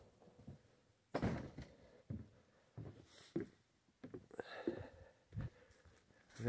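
A back door at a building on Wallcutt Mountain opens and closes with several dull thunks and knocks spread irregularly through the stretch, close and moderately loud, with faint shuffling between them and no speech.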